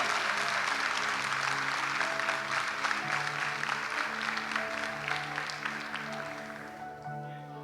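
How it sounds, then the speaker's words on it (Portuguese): A church congregation at a Brazilian evangelical service claps along in rhythm over sustained organ or keyboard chords, the applause fairly faint and thinning out near the end. "dá um brado de glória, de aleluia, e aplaude a Ele nessa noite."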